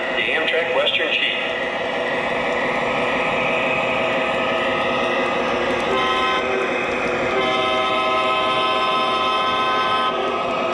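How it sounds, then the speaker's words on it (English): Model train of the Amtrak Western Chief running on track, a steady loud rumble with sustained horn-like tones and a voice talking throughout. "reporting on track 1, train number 3, the Amtrak Western Chief"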